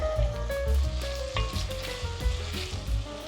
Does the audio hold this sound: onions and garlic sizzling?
yes